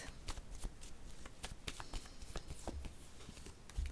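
Tarot cards being shuffled and drawn by hand, a rapid run of soft riffling flicks and slaps, close and fairly quiet, ending with a firmer card placed down.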